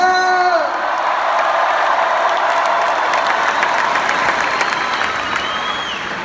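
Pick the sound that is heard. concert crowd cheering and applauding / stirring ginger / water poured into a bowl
concert crowd cheering and applauding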